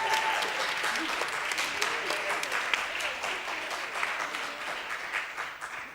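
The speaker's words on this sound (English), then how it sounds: "another round of applause" An audience at a school music recital applauds warmly, with dense clapping that holds steady and then thins toward the end, and a few voices murmuring beneath it.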